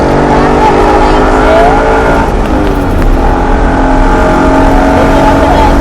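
A Ford race car accelerates hard out of a corner on the Charlotte Roval road course, its engine droning loudly and steadily with rising revs throughout, an instructor talking over it from inside the car.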